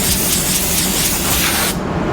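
Spray gun blasting paint onto a car fender in a paint booth, a steady loud hiss of atomized spray running continuously for about two seconds before cutting off sharply.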